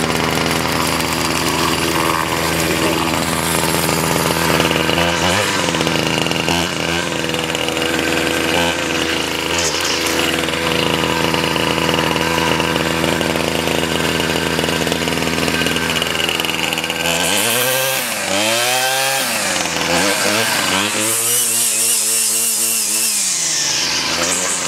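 A Ryobi 775r gas string trimmer, started cold, runs steadily and loudly close by with a continuous buzzing two-stroke drone, then revs up and down in rising and falling surges near the end.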